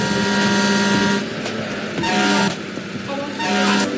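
Fire truck alarm horn in the Car Crushers 2 video game, sounding in three loud repeated honking blasts roughly a second apart over steady game engine noise, with no talk.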